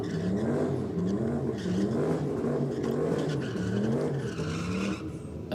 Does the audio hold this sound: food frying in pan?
no